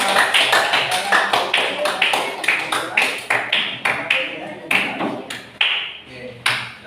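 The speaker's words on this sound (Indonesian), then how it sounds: "ya, boleh tepuk tangan" A classroom of pupils claps in unison in a rhythmic pattern of quick claps, loud and close, repeating about twice a second.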